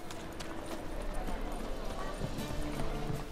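Horse hooves clip-clop in The Witcher 3: Wild Hunt, a quick steady trot of hoofbeats on the ground, moderately close and continuous, with soft background game ambience.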